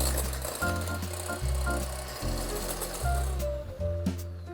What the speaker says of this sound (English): So I have my 3 egg whites. I'm going to whisk them up until they're really light and fluffy